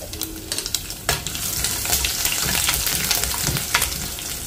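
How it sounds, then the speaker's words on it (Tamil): Onion vadagam and spices such as fennel seeds fry in hot oil for tempering a one-pot vatha kuzhambu, a close, continuous crackling sizzle with sharper pops and the scrape of stirring. "ஸோ தாளிப்பு வெங்காய வடகம் இது சேர்த்துக்கோங்க, நல்ல வாசனையாக இருக்கும்."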